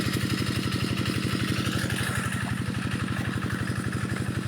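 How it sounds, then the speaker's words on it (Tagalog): Engine running a water pump to drain a fish pond, a steady rapid putter with clattering mechanical beats, close and continuous throughout with no voices. "Pinapatuyo na. Yan yung makina."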